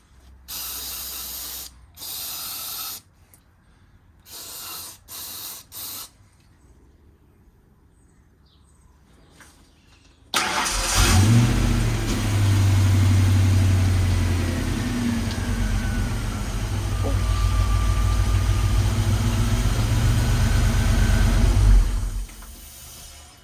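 A few short mechanical clicks and bursts, then a 5.0 V8 swapped into a 1968 Ford Mustang cranks and catches into a loud, steady, rumbling idle that runs for about twelve seconds before stopping.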